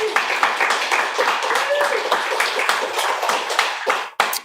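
An audience at a bookstore poetry reading claps for the staff, a dense, close patter of many hands that carries on for several seconds before trailing off, with some voices mixed in.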